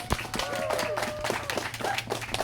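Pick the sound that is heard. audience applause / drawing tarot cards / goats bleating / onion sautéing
audience applause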